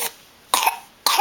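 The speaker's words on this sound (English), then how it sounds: "Oh, she's got a terrible cough." Three sharp, harsh coughs from a female, close and loud, spaced about half a second apart with quiet gaps between each burst.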